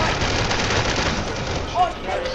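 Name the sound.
gunshots in a first-person shooter video game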